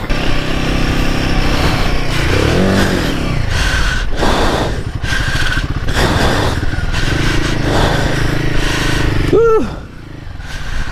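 A Royal Enfield Himalayan 450 motorcycle labors off-road in first gear, its engine loud and near, surging in repeated throttle bursts with brief dips and a rising rev near the end.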